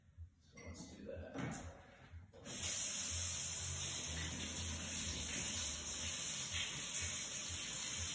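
Warm water running from a sink tap indoors, starting after a few soft handling clunks and then pouring as a steady hiss for several seconds.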